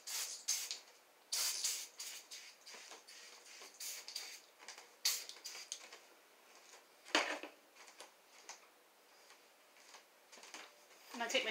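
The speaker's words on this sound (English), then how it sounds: "I'm going to give the floor a quick spray." A series of quick, hissing spritzes from a spray bottle spraying a floor, irregularly spaced and close, with quieter rustling between them.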